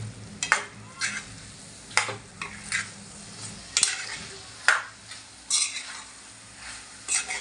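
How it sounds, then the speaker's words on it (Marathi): Kokum being sautéed in a pan, a soft sizzle under repeated scraping strokes of a spoon against the pan, close and spaced irregularly, with no talk. "कोकम व्यवस्थित परतून घेऊया।"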